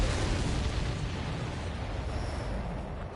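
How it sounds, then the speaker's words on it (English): In the Ace Combat 7 flight game, a missile strikes a supply ship, giving a loud, rumbling explosion that sustains as a dense roar and slowly fades over a few seconds. "The missile hit the supply ship dead on."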